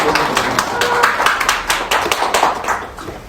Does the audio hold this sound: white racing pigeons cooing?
no